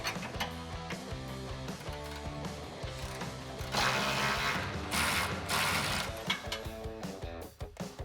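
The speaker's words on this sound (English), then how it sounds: "I'm going to use an 18mm socket and a 21mm wrench, and I'm going to remove just the nut for this bolt" A ratchet socket wrench clicks rapidly to back a nut off a leaf spring shackle bolt on a 2011-2014 Ford F150 5.0L, the close, loud ratcheting steady throughout with a few harder metallic knocks.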